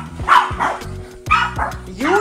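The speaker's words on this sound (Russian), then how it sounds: "Заходят собаки, что происходит?" Several dogs, including a puppy, bark and yip excitedly as they come into a home, short sharp barks in quick bursts, close and loud, with a person's voice mixed in.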